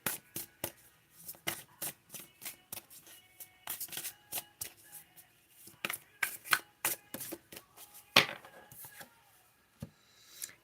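Oracle cards are shuffled by hand in a long run of crisp, rapid riffling and snapping bursts, close and fairly quiet, with short gaps between handfuls.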